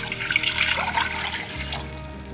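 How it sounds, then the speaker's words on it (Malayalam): Water pours steadily into a pot for chicken tikka biryani rice, a close, continuous splashing gush that lasts the whole moment with no one talking. "അപ്പോൾ ഞാൻ ഇതിലേക്ക് വെള്ളം ഒഴിച്ച് കൊടുക്കാണ്"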